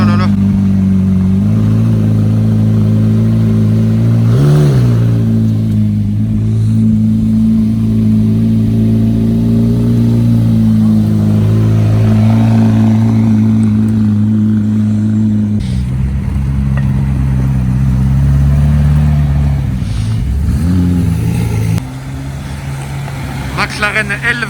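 A high-performance sports car engine revs loudly and steadily at close range on a Monaco street, with a sustained throaty drone that rises and dips, a brief blip near the end, and excited voices over it.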